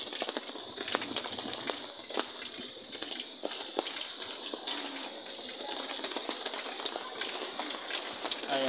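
Strong typhoon wind and heavy rain pour steadily during a Signal No. 2 storm in Sorsogon, a dense continuous hiss of downpour with scattered sharp drops and gusts, loud and unbroken throughout.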